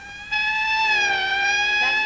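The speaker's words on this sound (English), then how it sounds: "That's the fifth siren in the last hour." A police car siren from a 1959 film scene wails loudly and steadily in a rising-and-falling tone, alone with no talk.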